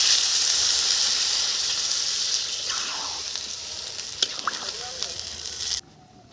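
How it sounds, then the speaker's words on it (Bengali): Water hits a hot pan of fried, well-cooked spices for khichuri, giving a loud, steady broadband sizzle and hiss that fades a little before cutting off near the end, with a few clinks and faint voice under it. "জল ঢেলে দেবো।"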